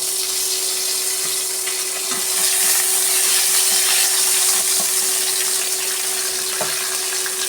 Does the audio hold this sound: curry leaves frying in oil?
yes